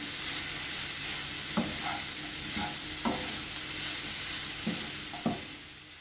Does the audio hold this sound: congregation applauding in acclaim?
no